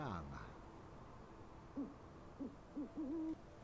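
Owl man character hooting in the video game Never Alone, four soft, short hoots spaced about half a second apart, the last one drawn out, quiet and alone after a faint blip at the start.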